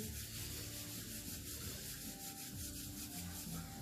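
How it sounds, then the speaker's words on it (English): Palms rub together in steady back-and-forth strokes, a soft dry friction sound, quiet and close with no voices. "bring your hands together and start to rub them"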